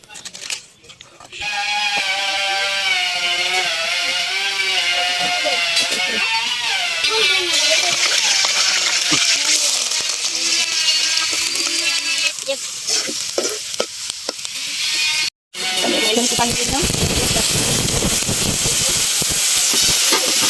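Chicken fries in hot oil in a kadai on a rooftop, a loud sustained sizzle with stirring, while people talk over it; a brief dropout comes near the end.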